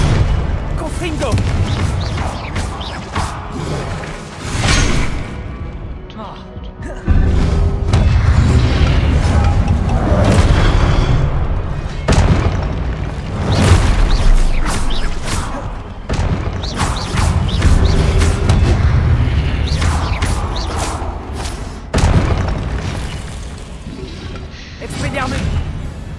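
Explosions from the Confringo blasting spell in a game boom loudly and often, layered with crashing bursts and heavy rumble, while voices speak over the blasts.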